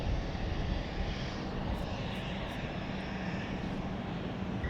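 A jet aircraft at London City Airport gives a steady, loud broadband engine roar that holds constant throughout, with no one speaking.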